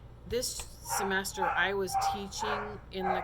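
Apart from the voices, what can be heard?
dog barking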